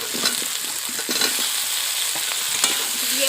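Potatoes stir-fried in a pan with tomato and salt sizzle steadily and loudly, with occasional scrapes and knocks of the stirring spoon.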